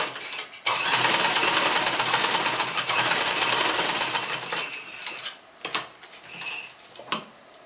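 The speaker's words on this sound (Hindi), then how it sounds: "अब ये हम साइड पे रख के इसकी सिलाई लगा लेंगे।" A sewing machine runs in one long, steady whirring burst as it stitches fabric for a tassel. It stops after about five seconds, leaving a few scattered ticks and clicks, all up close with no talking.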